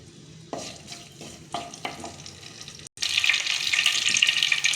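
Whole spices, a bay leaf and cinnamon, hit hot groundnut oil in a pan. A few soft clatters come first, then a steady, close sizzle swells after a brief pause.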